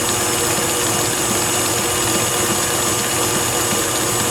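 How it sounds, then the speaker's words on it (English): An electric mixer running at higher speed through chocolate cupcake batter, a loud, steady close motor whir with no breaks or talking. "up my speed on the mixer"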